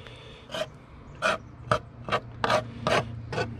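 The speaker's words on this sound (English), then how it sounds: "you can take and scrape the gills off" Repeated rasping scrapes as the gills are scraped off a razor clam, about seven short strokes in an uneven rhythm, close and clear over a low steady hum.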